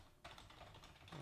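Quick, uneven keystrokes on a computer keyboard, close and fairly quiet, clattering steadily for about a second with no voices.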